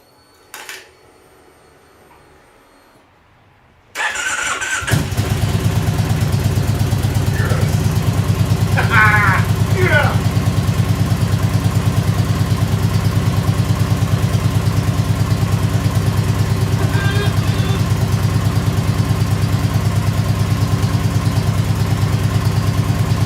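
A Kawasaki Vulcan 1600 Classic motorcycle engine starts after a short crank and settles into a loud, steady, rumbling idle that continues unbroken, with some faint clinks early on.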